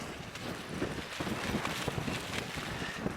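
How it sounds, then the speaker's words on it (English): Strong gusts of around 40 mph buffet a new tent, producing a continuous rushing roar with irregular surges and flapping, close and loud throughout. "still really windy."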